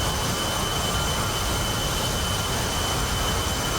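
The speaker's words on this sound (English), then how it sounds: "First aircraft up to bat is the A-10A Warthog." A-10A Warthog jet engine in the DCS flight simulator, a loud steady broadband roar and whine that holds constant throughout with no voices.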